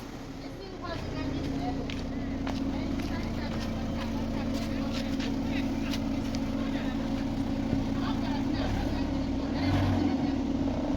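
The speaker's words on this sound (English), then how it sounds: "go ahead and give it a rev" A car engine with a blue-smoke oil-burning fault runs at a steady, fairly faint idle hum with some light clatter, and a small rise toward the end.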